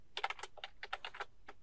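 Code is typed on a computer keyboard in quick, uneven bursts of crisp key clicks, close and fairly quiet, with brief pauses between runs and no talking.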